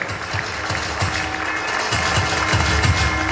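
An audience at an NCC parade applauds loudly and steadily, a dense wash of clapping with no pause, heard from within the crowd.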